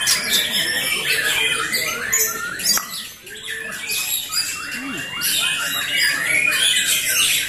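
White-rumped shama (murai batu) at a songbird contest, its loud, busy chirps and squawky phrases running continuously amid other birdsong in a dense chorus.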